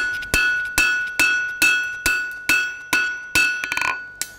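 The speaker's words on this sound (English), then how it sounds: "So I'm just going to do a quick double set with my hammer." Blacksmith's hammer striking hot steel tie bar on an anvil, about nine sharp ringing metallic blows in a steady rhythm, each with a bright lingering ring, close and clear with no talk.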